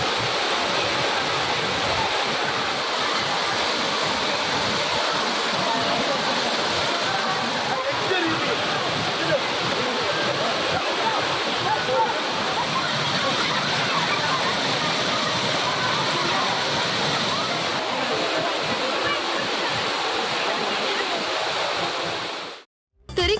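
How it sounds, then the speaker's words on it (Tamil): A waterfall at a temple site roars continuously where people bathe, a dense, steady rush of crashing water heard close and loud throughout, ending abruptly at the end. "அருவியில் ஆர்ப்பரித்து கொட்டும் தண்ணீரில் உற்சாகமாக குளித்தனர்"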